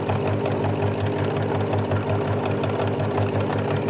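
A domestic sewing machine stitches straight lines of embroidery with a steady, rapid mechanical whirr and rhythmic needle clatter, running close and continuously throughout.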